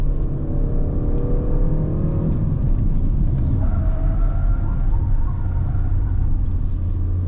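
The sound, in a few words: Peugeot 3008 SUV driving up Genting climb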